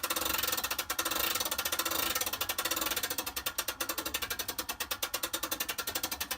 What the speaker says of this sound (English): When you start getting near the top, you want to slow down because you don't want to over crank it.